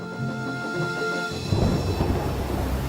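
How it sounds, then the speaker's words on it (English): Deep rolling thunder rumbles through a big, blustery storm on an island, a low steady roar that swells and grows rougher and louder halfway through, with no voices. "there was a big and blustery storm"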